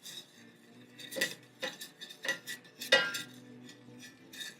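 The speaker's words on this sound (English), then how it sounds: "you wanna make sure that you are continuously stirring and that it doesn't burn to the bottom of the pan" Utensil stirring a honey glaze in a pan while making salmon bites, giving soft intermittent scrapes and light metallic clinks against the pan at close range.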